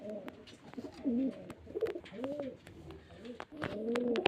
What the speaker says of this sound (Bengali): এগুলো সব মুর্শিদাবাদের গিরিবাজারের পায়রা